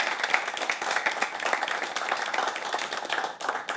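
An audience of students claps to welcome expert guests at a Janjatiya Gaurav Divas event, a dense, steady round of applause that runs throughout without a break.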